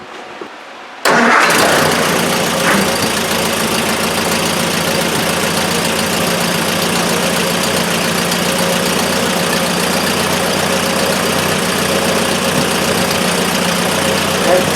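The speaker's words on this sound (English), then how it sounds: "we're just going to turn the car over here, get it started up" A Triumph Spitfire engine cranks and catches after about a second of near silence, then runs loudly and steadily up close for the rest of the time, a dense mechanical roar with no break.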